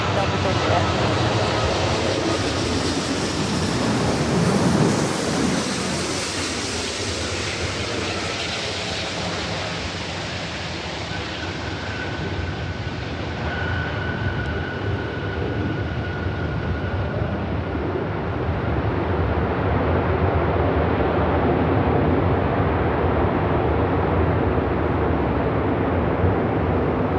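An Airbus airliner on short final to land at LAX, runway 24 right, heard as a steady, broad jet roar that swells and holds over nearly half a minute, with a faint tonal whine appearing midway and talk underneath.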